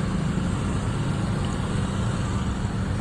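Road traffic crawling in a jam on Jalan Cipta Karya in Pekanbaru on a Ramadan evening, a steady dense rumble of engines close by with no voices.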